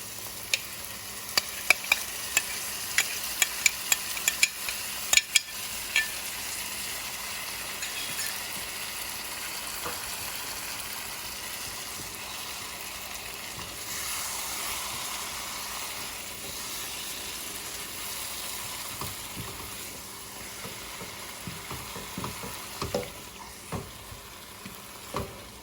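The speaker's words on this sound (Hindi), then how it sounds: "ये प्याज और सारा मसाला इसमें भुन रहा है आस्ते आस्ते" Onion and spices fry gently in a pan, giving a steady soft sizzle and hiss with occasional sharp spoon taps and clicks, and no talking.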